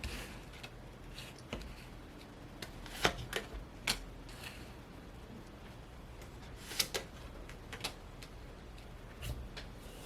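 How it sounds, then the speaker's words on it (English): Tarot cards being laid out on a table, heard as soft slaps and brief shuffling flicks against a faint steady background hiss, quiet and close. "Let me go ahead and lay the cards."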